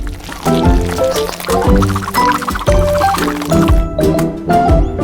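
Liquid is poured in a home kitchen during a cooking challenge, a loud close gurgling pour with splashing pulses and some clatter, running steadily and then thinning toward the end.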